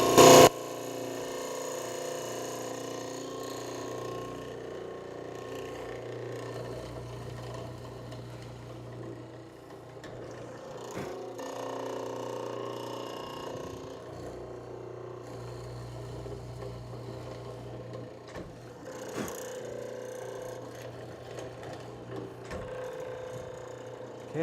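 A wood mortise being cut through, a quiet steady mechanical whirring with faint rattling and a few sharp knocks, held at an even low level for the whole stretch without speech.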